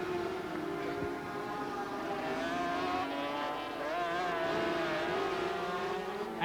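Sidecar racing motorcycles at the 1988 Donington Grand Prix scream past with high, rising and falling engine whines that layer over one another, loud and continuous with a faint voice beneath.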